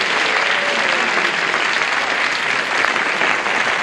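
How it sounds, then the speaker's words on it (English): Studio audience on a 1976 game show pilot booing loudly, a dense sustained crowd roar throughout that could also pass for applause, with no voices on top. "A lot of boos in the audience this time"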